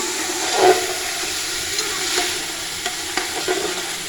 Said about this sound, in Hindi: चिकन अभी हमारा फ्राई हो रहा है